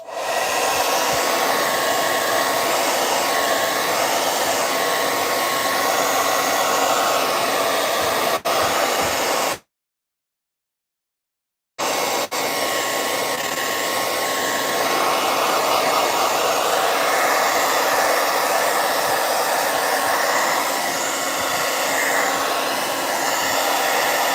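A hair dryer blows on wet paint on a painting, a loud, steady close-up whooshing drone that cuts off for about two seconds and then resumes at the same level, with no talking.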